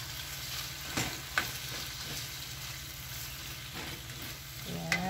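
Tomato sizzles in a frying pan with an omelette, a steady hiss of frying throughout while a utensil gives a few soft scrapes and taps as it is stirred in, close and unhurried.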